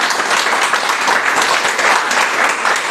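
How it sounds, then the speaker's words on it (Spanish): Loud, steady applause from a church congregation, dense clapping filling the space close and continuous with no pauses. "dale fuerte aplauso al Señor"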